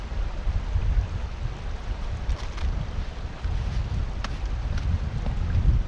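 Outdoors near a river at Loch Lyon, gusty wind buffets the microphone in uneven low rumbles over a steady wash of flowing water, with no one speaking.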